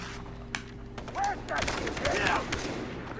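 Rapid gunfire bursts crackle in the video game Far Cry 3, quick overlapping shots heard fairly faintly while players talk over the action.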